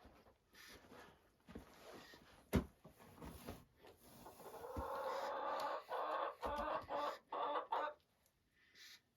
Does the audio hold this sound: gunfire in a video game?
no